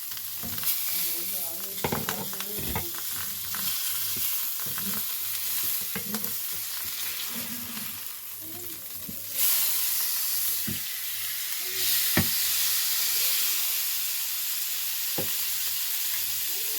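Fish frying and sizzling in a covered pan as it is flipped over, a steady hiss with scattered stirring scrapes and clatters and a brighter burst of sizzle partway through.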